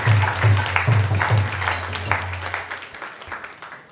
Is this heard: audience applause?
yes